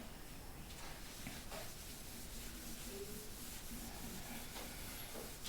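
A duster rubbing writing off a classroom board during a maths lesson, a steady, soft, continuous scrubbing hiss that lasts several seconds, quiet and close with no talking.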